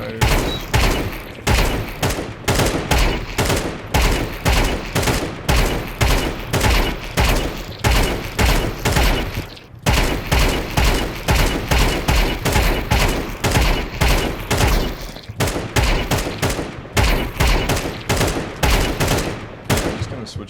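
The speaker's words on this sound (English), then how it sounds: "And then I do burst fires." Rapid bursts of gunfire from a Counter-Strike match ring out almost continuously, loud and close, with short clustered volleys separated by brief gaps and no voices.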